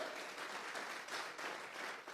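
Church congregation giving a short burst of steady applause, a dense wash of hand claps heard somewhat distant and alone.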